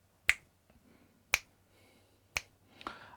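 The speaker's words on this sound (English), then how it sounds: "If I just snap my fingers" Four crisp finger snaps, close and isolated, spaced roughly a second apart in a quiet room with a faint steady hum underneath.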